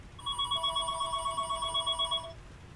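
A telephone rings with a steady electronic bell tone, one continuous ring lasting over two seconds, moderately loud and close against a quiet background, with no talking.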